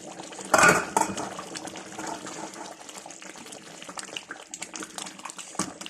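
Egusi melon soup in a cooking pot with green meat and fish added, bubbling on the fire with a sharp clatter of pot and utensil near the start, then steady simmering and light splashing.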